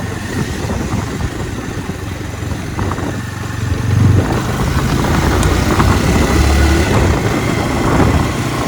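A motorcycle engine idles with a low, steady rumble that grows slightly louder midway, continuous and close.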